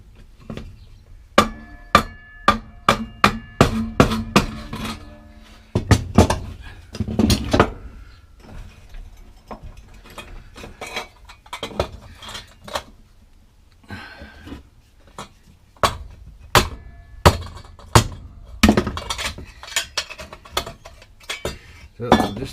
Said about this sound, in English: is hammer that down